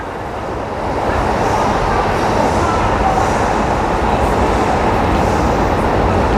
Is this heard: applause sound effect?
no